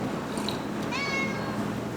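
A cat meows once, a short rising cry, while being picked up into someone's arms, faint against a steady background hum.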